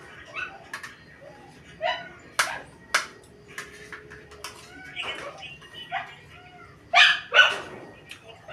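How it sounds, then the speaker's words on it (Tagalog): Dog barking outdoors, a series of short, sharp barks spaced irregularly at moderate distance, with a couple of louder barks near the end over a quiet background. "Kaingay ng aso"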